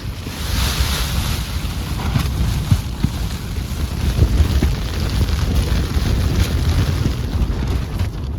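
Strong, continuous wind and rain roar and buffet a tent at night on Mount Kazbek in Georgia's Caucasus, with constant rushing noise and low flapping thuds close by, no voices present.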